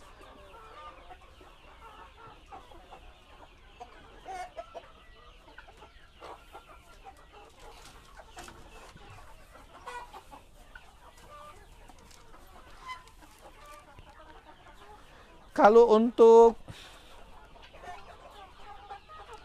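Chickens at a farm selling birds, including KUB and breeder stock, cluck softly and sporadically for a long stretch, with one sudden loud squawking burst near the end and a brief voice speaking.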